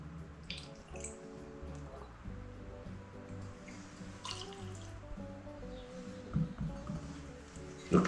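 Two centilitres of VSOP cognac are poured into a cocktail, a soft trickling and dripping of liquid with light clinks, heard close over quiet background music.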